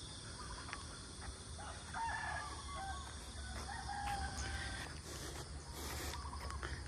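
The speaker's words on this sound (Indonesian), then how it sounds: "Ayam masih berkeliaran" A rooster crows repeatedly among roaming chickens at a rural house beside oil palm plantations, distant and fairly faint against a quiet outdoor background.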